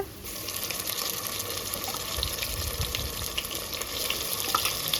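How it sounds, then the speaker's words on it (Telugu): Onions frying in oil as ginger garlic paste goes into the pan for a chicken curry, a continuous dense sizzle with stirring scrapes and wet crackle, close and steady with no talking. "ఉల్లిగడ్డ బాగా ఫ్రై అయింది కదా అల్లం వెల్లుల్లి పేస్ట్ వేసుకుంటుండా"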